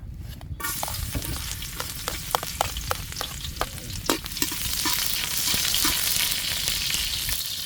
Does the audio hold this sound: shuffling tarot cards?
no